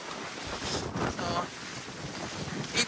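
Strong wind on a hillside beach lot before rain buffets the microphone in heavy, uneven gusts, a close rumbling roar with brief surges.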